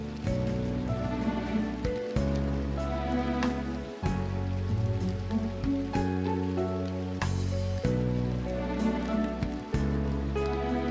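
Steady rain patters on a city street, a soft continuous hiss of drops with no voices, heard under a gentle layer of music.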